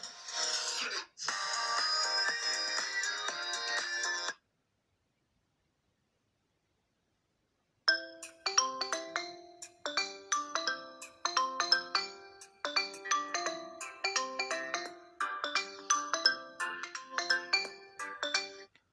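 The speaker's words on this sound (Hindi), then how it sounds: "तो ये जनाब रिंग टोन्स हैं।" Several phone ringtones play through the small, normal-quality speaker of a Xiaomi Redmi Note 9, first a bright sustained tune, then after a pause of silence a plinking, repeating melodic jingle.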